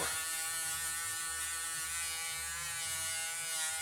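A powered polishing wheel buffing the body of a Tamiya 1/20 McLaren M23 model car, giving a steady, faint, high-pitched motor whine that runs evenly throughout without voices.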